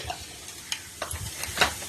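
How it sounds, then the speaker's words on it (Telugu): Mustard seeds and cumin crackle in hot oil in a kadai, with sharp scattered pops and a soft sizzle over about two seconds, close and fairly quiet, no talk. "నూనె బాగా కాగిందండి. ఇప్పుడు ఆవాలు, జీలకర్ర కొంచెం"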